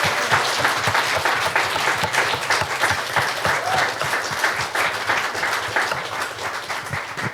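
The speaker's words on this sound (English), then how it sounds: "Big round of applause." A room of guests at a construction industry launch event gives a steady round of applause after a panel, with many hands clapping densely and evenly throughout, moderately loud.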